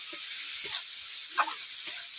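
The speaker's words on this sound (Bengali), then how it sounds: "আমি এইভাবে মশলাটাকে 3 থেকে 4 মিনিট কষিয়ে নিচ্ছি" A spice paste with chopped tomato fries in a pan for a katla fish curry, giving a soft, steady sizzle with a few faint stirring scrapes.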